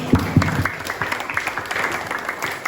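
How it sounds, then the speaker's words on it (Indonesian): An audience at a school teaching-practice farewell event applauds briefly, with a few loud near claps at the start and then a thinner, scattered clapping that continues in a room. "Tepuk tangan ya."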